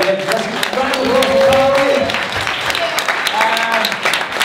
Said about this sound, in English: applause for Carly